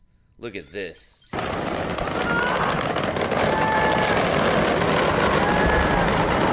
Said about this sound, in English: you can hear the firecrackers going off